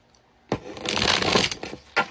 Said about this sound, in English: So, 3 shuffles for Gemini. 3 shuffles.